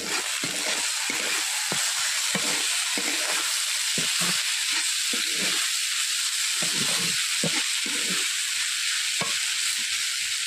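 Frying with cumin and black pepper in a pan produces a loud, steady sizzle and hiss, broken by repeated rhythmic scrapes of stirring throughout.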